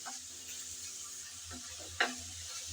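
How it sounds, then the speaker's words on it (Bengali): Mutton fries in a pan for a curry and is stirred now and then, giving a faint, low sizzle with a few soft scraping stirs. "আমিও 2-1 মিনিট নেড়ে চেড়ে এভাবে ভালো করে একটু ভেজে নেব।"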